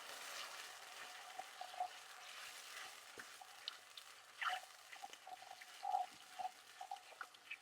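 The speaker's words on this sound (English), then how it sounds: "Let's get that cooking away, bubbling away for a minute." Lentils in 200 ml of vegetable stock simmer in a pan with a faint, steady hiss and scattered soft bubbling pops, quiet and close.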